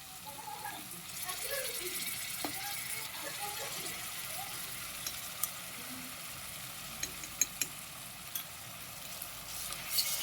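Onion fries in a pan for a beef bhuna as ginger and garlic paste go in, giving a faint, even sizzle with a few sharp utensil clicks late on.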